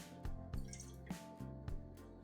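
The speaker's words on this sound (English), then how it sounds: "Now I'm just going to be adding my perfume. This is lavender." Lavender perfume drips into homemade hair cream in a slow, steady series of soft, faint drops about every half second, close and quiet with no talk.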